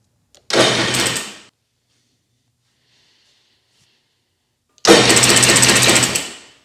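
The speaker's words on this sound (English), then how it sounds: "hit this green start button to see if our battery is now powering the starter and turning over the engine" An abandoned jet ski engine cranks and fires twice after a battery repair, each burst a loud, rough, rapid mechanical rattle lasting about a second, separated by several seconds of silence.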